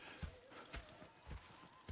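Horse hooves clip-clop in the Red Dead Redemption 2 video game, a steady rhythm of soft, moderately close hoofbeats on the ground.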